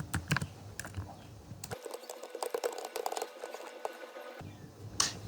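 Code being typed on a computer keyboard while writing a Python print statement, with rapid irregular clicking key taps, nearby and moderately loud, and a brief pause midway before more keystrokes.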